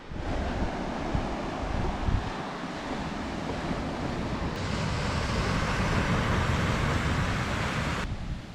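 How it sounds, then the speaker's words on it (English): Ocean waves roll in at Praia Del Rey beach on Portugal's Silver Coast in autumn, a steady, broad wash of surf mixed with gusty wind buffeting the microphone, continuous and fairly loud throughout. "So this is the beautiful Praia Del Rey beach just in front of the Marriott Resort on the Silver Coast"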